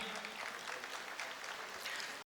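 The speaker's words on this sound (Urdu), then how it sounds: "بہت ساری تالیاں" Applause from an audience at an alumni reunion ceremony as a guest is called on stage to receive a shield, a dense steady patter of many hands over about two seconds, cutting off abruptly.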